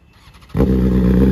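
A BMW S1000RR M Pro Sport with an Austin Racing exhaust bursts into a loud, close rev after a brief quiet moment, then holds a harsh, steady engine bark.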